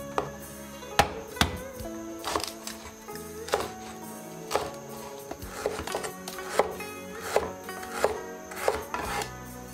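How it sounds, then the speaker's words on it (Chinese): A knife chops scallion, ginger and garlic on a board, sharp close knocks in an uneven rhythm of about a dozen strikes, some quick pairs, with no talk. "在煮的过程中切点葱姜蒜"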